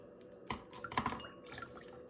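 Blue Kool-Aid Jammers drink drips and splashes from a cut pouch in a few quick, small liquid sounds clustered near the middle, quiet and close with a faint background hiss.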